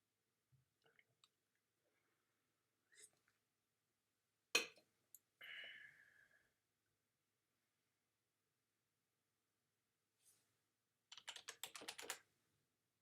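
Sparse keystrokes on a computer keyboard, a few isolated faint taps, then a sharp click and a short rattle, and finally a quick burst of rapid close typing against near silence.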